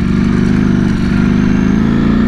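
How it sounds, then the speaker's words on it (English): A 2020 Ducati Streetfighter V4 with an ECU flash tune pulls hard, its V4 engine and exhaust roaring loud and close with a steady, throbbing, pulsing drone. "It does have that nice V4 tone. It does sound good at the exhaust."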